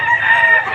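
A rooster crows once, loud and close, in a short burst at the Lipa poultry auction market, where chickens are sold.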